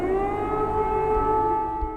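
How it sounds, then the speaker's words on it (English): Air raid siren wailing over Mykolaiv, Ukraine, a loud steady sustained tone with layered harmonics that holds throughout without any talk. "and the air raid sirens"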